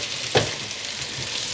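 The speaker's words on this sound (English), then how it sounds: "I feel like when you're frying stuff, you gotta really fry it." Food fries in hot oil in a pan for a cheesy caldereta, with a steady loud sizzle and a brief stirring scrape near the start.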